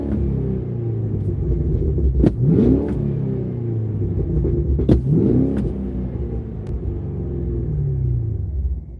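A car engine revs and rumbles loudly throughout, climbing in pitch twice with gear-change sweeps, close and dominant with no talk.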